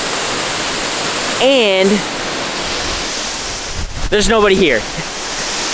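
Marymere Falls in Olympic National Park roars steadily with strong spring flow, a dense, constant rush heard close by. A person speaks briefly twice over the water.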